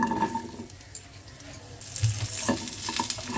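Drumsticks go into a little hot oil with a pinch of turmeric and salt, giving a soft sizzle with faint stirring clinks and scrapes that swell louder toward the end.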